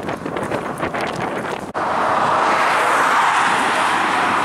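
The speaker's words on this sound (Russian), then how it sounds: "Ветра дует здесь просто жесткие." Strong wind on the Black Sea coast near Port Krym roars steadily against the microphone, a loud broadband rush that grows fuller and heavier after a brief dip partway through.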